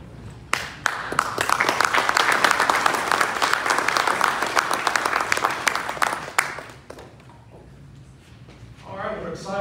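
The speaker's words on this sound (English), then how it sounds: "Y'all give applause" A crowd at an outdoor conservation tour stop for the Tennessee governor at a brownfield project claps loudly for several seconds before the applause fades out, and a voice starts speaking near the end.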